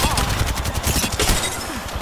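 Continuous automatic gunfire in an online shooter video game, loud and busy throughout, with a player's voice talking over the shooting.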